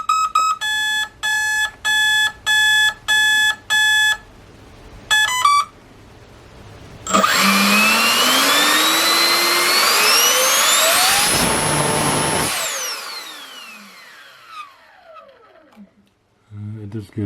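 Several beeps from a controller precede a homemade turbo compressor for a 1/3 scale V10 RC car spinning up to about 55,000 rpm with a loud rising whine and roar, holding high, then winding down.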